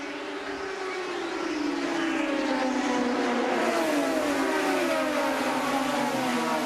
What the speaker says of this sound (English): The green flag is out and all 22 riders, drivers are ready to race in Richmond.